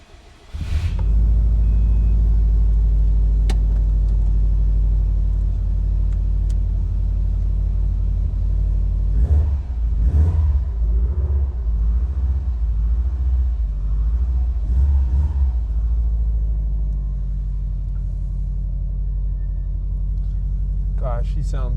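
Turbocharged 2008 Subaru Forester XT engine running close by, a deep steady low rumble that continues under brief talk in the middle before settling into a smooth idle.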